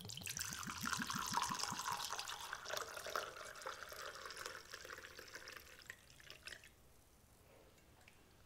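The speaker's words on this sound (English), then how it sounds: "we're going to measure out our liquid" Liquid pours steadily into a measuring container for a fresh yarrow plant tincture, a close trickling stream that fades out near the end, with no talking.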